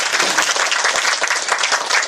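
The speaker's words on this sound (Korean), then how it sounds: "다시 한번 박수 부탁드립니다" Audience applause at a Korean intergenerational community event, a steady dense wash of many hands clapping, loud and sustained throughout with no pauses.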